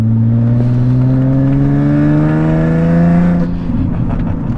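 Alfa Romeo 147 GTA engine revving loud and close with its exhaust valves open, a steady rising tone that swells for several seconds and then drops off near the end.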